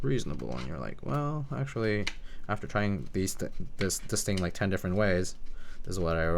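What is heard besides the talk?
No everyday noise stands out behind the speech.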